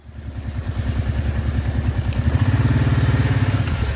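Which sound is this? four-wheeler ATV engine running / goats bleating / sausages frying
four-wheeler ATV engine running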